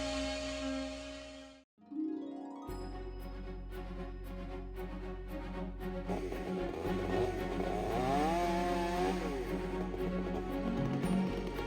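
A chainsaw trims lilac trees in a countryside yard in New England, its engine droning steadily and fairly close after a brief pause, with revving swells and a continuous buzzing tone throughout.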